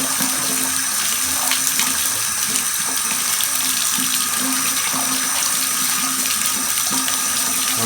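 Steady, strong rush of hot water running from a just-repaired faucet, close and continuous for the whole stretch, with no voices.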